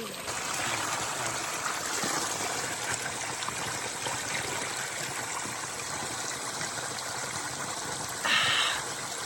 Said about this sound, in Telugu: వాటర్ ఎక్కడి నుంచి వస్తున్నాయో తెలియదు మరి బండ కింద నుంచి వస్తున్నాయి